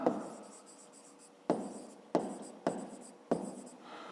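Chalk or marker scratches across a board during a fifth-grade maths lesson, in several separate brisk strokes, faint and close with short pauses between them.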